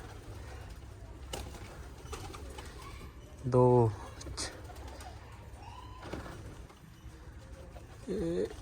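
Domestic pigeons coo in a short, clear burst partway through, with a second softer coo near the end, while people talk nearby over a low background hum.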